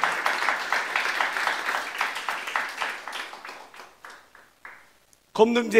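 A church congregation breaks into rhythmic clapping and applause during a sermon, a dense close patter that gradually thins and fades, with a voice speaking at the very end.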